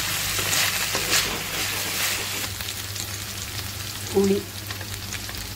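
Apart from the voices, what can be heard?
green chillies and garlic frying in hot oil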